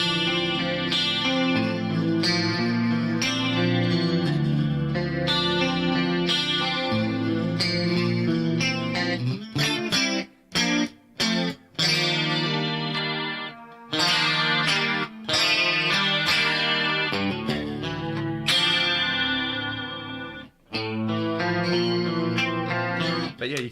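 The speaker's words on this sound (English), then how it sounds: "I don't have an amp in the signal chain here. This is a Rockman style patch I'd set up." An electric guitar runs straight through a Rockman-style effects patch with no amp and plays sustained chords with chorus and distortion for over twenty seconds. Choppy muted funk strums and brief gaps break up the passage.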